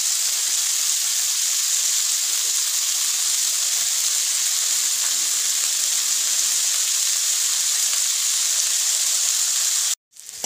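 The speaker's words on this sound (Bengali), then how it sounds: "এবার এটাও একসাথে দিয়ে ভেজে নেব। কোনো সবজি তুলছি না আর আলাদা করে, আর ফুলকপিটা ভাজা হতে একটু সময় নেবে।" Steamed cauliflower frying in a pan together with other vegetables, giving a loud, even, continuous hiss of sizzling oil that stops suddenly at the very end, with no talking.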